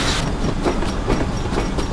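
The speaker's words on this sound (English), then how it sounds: "So we've got going along this beautiful stretch of line." A steam locomotive runs along the line in a train simulator game, a steady loud rumble with rhythmic clickety-clack of wheels over rail joints and no voice over it.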